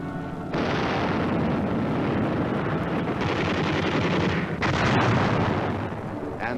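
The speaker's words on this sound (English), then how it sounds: "And heavy artillery barrages." Heavy artillery barrage from a 1952 Korean War military film: a dense, continuous roar of rumbling blasts, loud throughout with no gaps, swelling slightly near the end.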